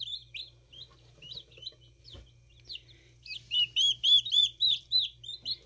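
Baby chicks chirp in a series of high, clear peeps, sparse and scattered at first, then louder and more rhythmic with rapid repeated calls toward the end, heard close over a low background hum.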